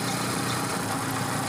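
A motorbike engine runs at a steady, rough drone while riding a rough field path, loud and close with constant vibration and no voices.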